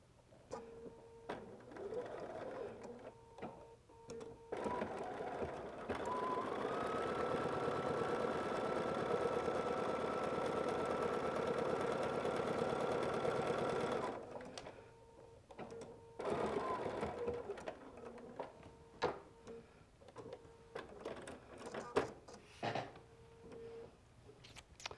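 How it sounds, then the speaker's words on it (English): A sewing machine stitches down the side of a foundation-pieced quilt block. The motor whirs in a long, steady, close run between shorter stop-start bursts and quiet pauses, fairly soft overall. "I'm going to turn it around and I'm going to do that same stitching again down this side."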